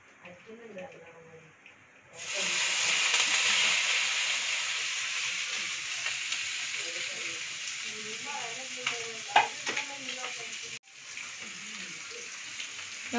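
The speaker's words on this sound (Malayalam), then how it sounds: "അപ്പോൾ നമുക്കിത് വറുക്കാം." Dried fish fries in hot oil in a pan: after a couple of seconds of quiet talk, a loud, steady sizzle bursts in and continues with faint crackles, with a voice speaking over it.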